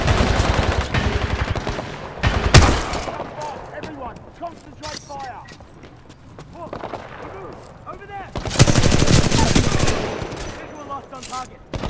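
Heavy gunfire and explosive blasts in the video game Titanfall 2 come in loud bursts near the start and again around the two-thirds mark, with quieter shots, mechanical clanks and voices talking in between.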